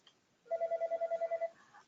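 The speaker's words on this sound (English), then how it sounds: "Sorry about the phone." An indoor telephone gives one short electronic ring, a rapid warbling trill lasting about a second, moderately faint in a quiet room.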